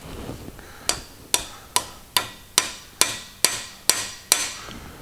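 A hammer taps lifters into a 4.3L LV3 V6 engine during a DOD/AFM delete, nine crisp, evenly spaced metallic knocks about half a second apart, close and clear with no talk.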